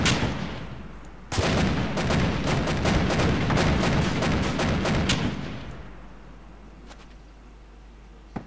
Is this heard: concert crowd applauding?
no